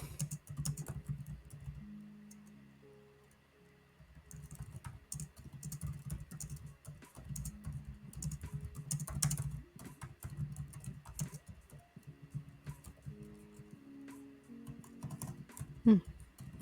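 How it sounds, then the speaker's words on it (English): Computer keyboard typing during a work livestream: steady close clicking keystrokes in short bursts and runs throughout, with a brief louder clack near the end. "I say Hokusai, I just start typing ko."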